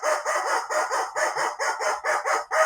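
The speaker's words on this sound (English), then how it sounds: "And the rubber chicken says," A rubber chicken squeezed repeatedly, giving a loud, strained squawking honk in about ten rapid, regular pulses, close and alone.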